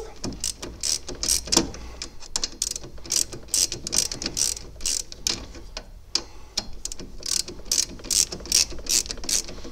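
A hand ratchet backs out a brake caliper screw on a Toyota Aygo during a disc and pad change, with rapid close clicking in bursts of pawl ticks and short pauses between turns, no one talking.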